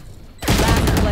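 Gunfire in the video game Valorant, in a match on the Bind map, erupts suddenly as a loud, rapid burst of shots after a brief quiet moment.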